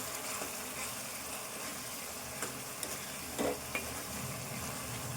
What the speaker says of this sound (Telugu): ఈ పచ్చిమిర్చి ఈ కారం అంతా కూడా వేగాలి మంచిగా